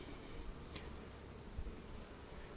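Honeybees buzz at an opened hive during an inspection, a faint, steady hum that holds for the whole stretch with no talk over it.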